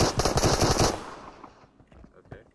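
Rapid automatic gunfire in a video game shooter, a loud dense burst up close that cuts off within a second, leaving faint scattered sounds and low game noise.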